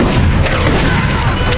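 Heavy machine gun fire in a film battle scene, a dense, loud and continuous barrage of overlapping shots and booms with no pause.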